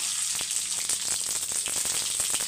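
Steady crackling sizzle of seeds popping in hot oil, dense and close, with scattered small pops throughout.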